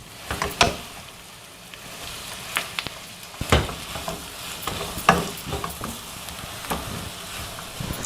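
Shredded cabbage stirred and frying in a pan with onion and capsicum, a steady sizzle broken by sharp scrapes and clatters of the spoon against the pan.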